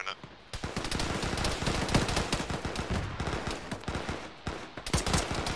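Sustained automatic fire from a Bradley fighting vehicle in Arma pours out in loud, dense rapid bursts for several seconds, with short gaps between volleys and no voices over it.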